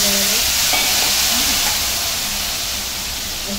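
A paste of cumin, coriander and ginger sizzles and hisses loudly in a hot pan after a splash of water, with steady frying noise and a little stirring, no talk.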